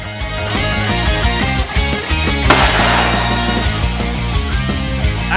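A sharp explosion bursts out midway through loud, layered music during an airsoft game, followed by a brief noisy wash before the music continues.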